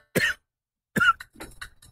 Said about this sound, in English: All I do is cough.